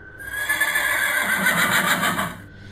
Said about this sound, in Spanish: De nueva cuenta escuché ese maldito caballo que andaba merodeando la obra.